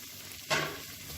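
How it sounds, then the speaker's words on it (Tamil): A sudden sizzle flares up as onions hit hot oil, then eases into a softer, steady crackle of frying. "இப்போ பாருங்கள், வெங்காயம் வந்து நல்லா ஓரளவுக்கு வதங்கிருச்சு."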